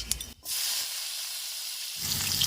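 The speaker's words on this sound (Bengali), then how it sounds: "তেলের মধ্যে দিয়ে দিচ্ছি পাঁচ ফোড়ন কেটে রাখা পেঁয়াজ" Panch phoron and chopped onions hit hot oil in a pan, giving a steady, loud broadband sizzle and hiss that surges again near the end as more frying noise builds.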